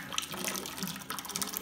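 Hose water flushes through the radiator cooling system of a 2002 KX100 dirt bike, a faint, steady trickle and splash of liquid running out.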